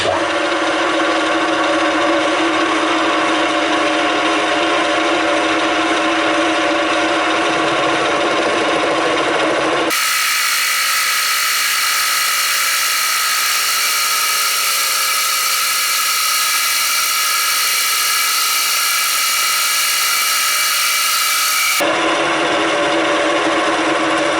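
A Deckel milling machine cuts a metal part for a table support with a loud, continuous grinding whine. The tone shifts sharply in the middle stretch and then returns to the first sound, with no talking.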